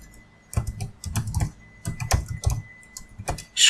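Fast typing of JavaScript code on a computer keyboard, bursts of close, crisp key clicks in short irregular runs separated by brief pauses, with no talking.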